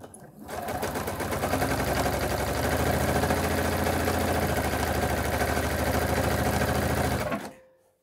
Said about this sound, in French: pour que vous voyez mieux quand je pique